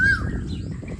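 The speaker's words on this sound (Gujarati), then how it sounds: "કેટલી મસ્ત બોલે છે કોયલ" An Asian koel calls once in a village setting, a brief clear whistled note rising out of steady low background rumble from nearby construction work.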